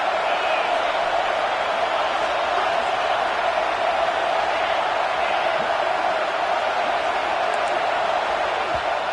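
A stadium crowd in a Madden football video game keeps up a steady, dense roar that stays even throughout, with no clear cheers or pauses.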